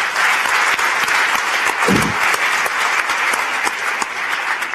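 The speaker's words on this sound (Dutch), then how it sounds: "geef een warm applaus." Warm applause from the studio audience at a Dutch political comedy show, with sustained, dense clapping that stays at an even loudness throughout. A single heavier thump is heard partway through.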